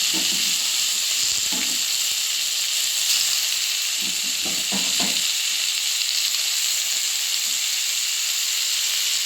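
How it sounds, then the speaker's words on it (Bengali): Salted new potatoes frying in hot oil in a wok-like kadai make a loud, continuous close-up sizzle and hiss, broken by a few brief clinks of stirring. "এবার কড়াই তেল দিয়ে গরম করে নিয়েছি তেলটি, আর আলুগুলি আলুগুলি আগে ভেজে নেব"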